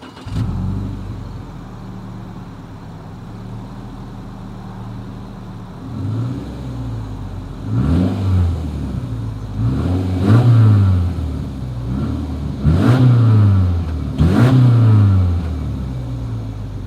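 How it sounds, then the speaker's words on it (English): A 2021 Subaru Crosstrek with a single exhaust is revved several times, starting from a steady idle, with four or five strong rising and falling revs in the second half, close up and with no talk. "As always, here is that exhaust clip."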